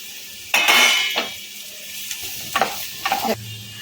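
Vegetables for Kolkata street-style chicken chowmein are stirred lightly in a wok, with several scraping, clinking strokes of a metal spatula over a quiet sizzle, spaced out across a few seconds.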